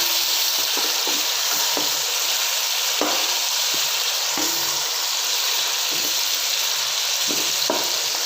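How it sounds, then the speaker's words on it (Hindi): Chicken pieces browning for chicken pulao in a hot pan, with a steady loud sizzle and frying hiss throughout and occasional soft scrapes and clicks of stirring, with no voices. "चिकन को हम अच्छी तरह जो है वो ब्राउन करते हैं।"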